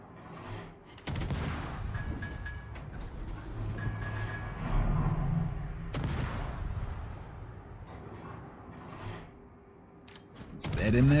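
Warship main guns fire in World of Warships, sounding as heavy, booming salvos spaced several seconds apart, each followed by a rolling rumble that fades before the next blast.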